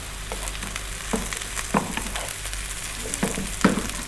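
Bite-sized broccoli pieces fry in a hot pan, a constant sizzle with scattered crackles and a few louder pops as the food is stirred, no talking.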